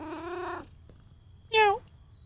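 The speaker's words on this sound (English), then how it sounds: "Oh, it's a cat." A cat meows twice in a horror video game, a long drawn-out mew followed by a shorter, louder one, over a low background hum with no talking.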